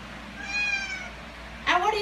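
A cat meows once in a rising, drawn-out cry and then gives a second, shorter meow moments later, both close and clear over a low room hum.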